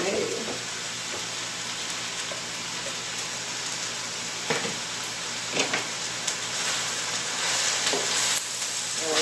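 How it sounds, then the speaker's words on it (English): Chicken pieces, a little over a pound, stir frying in a pan, a dense continuous sizzle with occasional sharper clicks of stirring, steady and close throughout. "So we are going to stir fry these up first."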